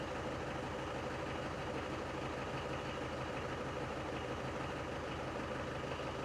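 A Land Rover Defender 110 with the 300TDI diesel engine idles steadily, a close, constant low rumble that holds at an even level throughout, with no talking.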